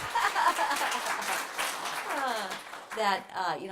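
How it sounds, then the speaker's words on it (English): Audience at a Harvard dental school distinguished alumni awards ceremony applauding, a dense spread of clapping with a voice talking over it toward the end. "let's clap for them too, Christine."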